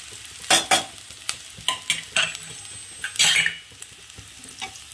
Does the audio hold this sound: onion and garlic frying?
yes